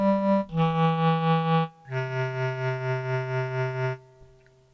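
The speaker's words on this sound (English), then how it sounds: "we can access the tremolo to have an automatic variation of the expression." A dualo du-touch electronic instrument holds sustained notes with a steady, pulsing tremolo effect that rhythmically swells and dips in volume, ending with a short decay.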